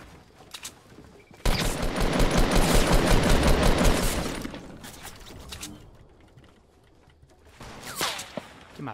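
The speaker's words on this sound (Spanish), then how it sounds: "¿Hay alguien de este ahí arriba que me está disparando?" Fortnite gunfire crackles in a dense, loud burst of rapid shots lasting a few seconds, then thins to scattered distant shots and mechanical clicks, with another short volley near the end.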